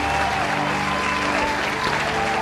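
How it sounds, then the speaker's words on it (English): A church congregation applauding, a steady wash of many hands clapping, moderately loud and continuous with no speech over it. "And as the congregation began to applaud"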